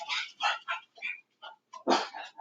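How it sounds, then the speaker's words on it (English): Indoors, a dog barks in a quick series of sharp, loud, close yelps after someone comes to the door, with short pauses between bursts and a final louder bark. "So the dog's freaked out."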